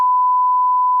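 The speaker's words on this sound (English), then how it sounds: "that's getting the biggest beep" A single steady censor bleep, loud and continuous for about a second, covering a swear word in a comedy podcast roast; a pure electronic tone alone with no talk around it.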